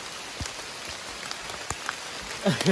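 Rain falls outdoors during a day-and-night photo shoot, with scattered raindrops pattering on surfaces and soft background hiss. A short burst of voice rises at the end.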